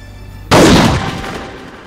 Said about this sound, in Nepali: हान गोली मार